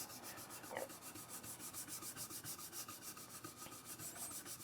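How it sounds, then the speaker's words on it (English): A brush scrubbing pigment onto a wooden mokuhanga printing block gives quiet, rhythmic rubbing strokes at a fast, even pace, close and soft. "I'm just kind of scrubbing in this top portion of the block."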